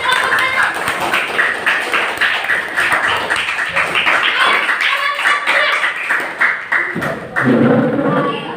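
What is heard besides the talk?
classroom applause for group 1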